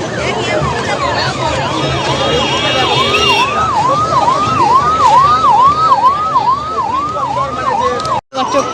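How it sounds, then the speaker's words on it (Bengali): Several ambulance sirens wail past one after another at a busy street festival procession in Puri, loud and continuous with rising-falling sweeps, over crowd noise and voices. "দেখো একের পর এক অ্যাম্বুলেন্স কিন্তু চলেই আসছে"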